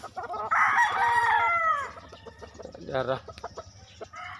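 Backyard breeding flock of chickens, with a rooster crowing loudly up close while hens cluck around it and a person speaks briefly.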